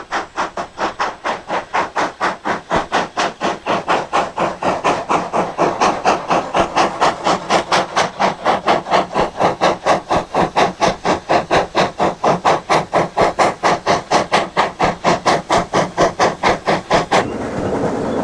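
A steam train working up a valley in northern England, with loud, rapid, evenly spaced exhaust chuffs that build steadily and continue without a break, hissing and close.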